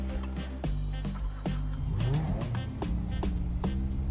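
Car engine in the video game GTA idling and revving at a car meet, with rising and falling pitch sweeps and a few sharp clicks, close and moderately loud.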